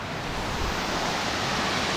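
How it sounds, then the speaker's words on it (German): A canyon waterfall on the Water Canyon Trail, a steady, broad rushing roar of falling water close by that fills the whole stretch without a break. "Jetzt gehe ich hier nochmal kurz zu dem Wasserfall."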